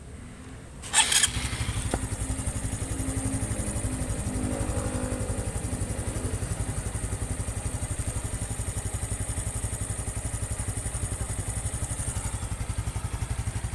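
After a brief clatter, a 2022 Honda Supra X 125 motorcycle engine settles into a smooth, steady idle with an even, rapid putter, close by and continuous.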